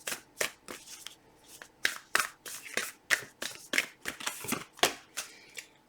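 Oracle cards being shuffled by hand in a steady series of crisp riffles and flutters, close and clear, with no talking.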